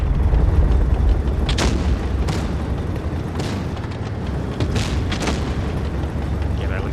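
Tank guns fire in World of Tanks Blitz with a Foch 155 and Maus in play, several heavy booming blasts spaced a second or two apart over a dense rumbling background.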